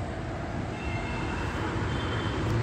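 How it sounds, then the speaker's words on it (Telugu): A Bangalore metro train runs past nearby as a steady, loud rumbling roar that fills the whole moment without a break, with no talking. "ఇప్పుడైతే అక్కడ మెట్రో ట్రైన్ వెళ్తుంది."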